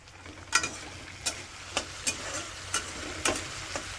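Pirali palang greens fry in a pan, a steady sizzle broken by about seven sharp scrapes of stirring spaced roughly half a second apart, near and moderately loud with no talking.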